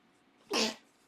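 A single sharp sneeze bursts out close by, brief and loud against a quiet background.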